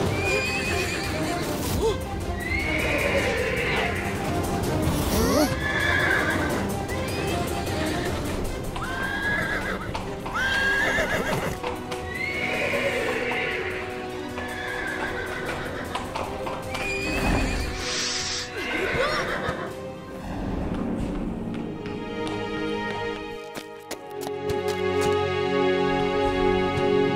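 A horse whinnies repeatedly amid clip-clopping hooves, loud and close, in a dramatic Indian TV mini-series scene about taming a horse; music swells toward the end.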